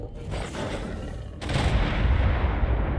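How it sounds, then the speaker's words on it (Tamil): Explosions burst from creature attacks in the video game ARK: Survival Evolved during a Chaos Manticore boss taming, a softer crackle followed by a sudden loud, rumbling blast that keeps booming. "இது வேற வேற மாதிரி வெடிக்குது, மேலே வரைக்கும் வருது வெடிச்சுட்டு"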